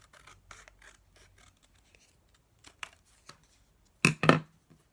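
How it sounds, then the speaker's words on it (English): Scissors cutting through a folded paper circle along its crease: scattered soft snips, then a loud pair of close crisp cuts near the end, with quiet pauses between. "And I'm going to cut on that crease."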